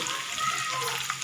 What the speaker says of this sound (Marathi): कांदा आता थोडा लालसर होईपर्यंत करते आहे थोडं तेल टाकायला पाहिजे